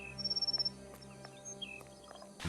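A bluebird of paradise calling inside a Sherlock Holmes detective game, a short run of quick rhythmic chirps at the start followed by faint scattered tweets over a quiet ambient background.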